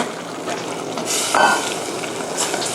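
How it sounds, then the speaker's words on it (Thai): Panang curry paste fries with coconut milk in a pan before pork goes in, a steady close sizzle with a brief scrape of stirring partway through and no talking. "ผัดนะคะจนกว่าจะกะทิจะแตกมันนะคะ"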